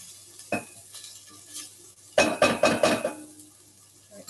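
Onions and tofu fry in a pan. A soft background sizzle is joined by one early scrape, then a close cluster of four or five quick stirring scrapes with light utensil clinks. No one speaks.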